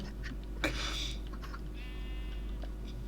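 A single sheep bleats once in a Minecraft survival game, a short wavering cry standing clear over a steady low hum, with no voices over it.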